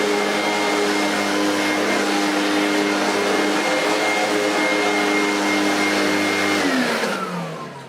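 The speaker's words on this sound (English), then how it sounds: "I'm just going to vacuum it again to get rid of any that might have popped underneath." A Vorwerk VK120 vacuum cleaner runs on carpet with a steady, loud whine and drone, its motor pitch falling away as it powers down at the end.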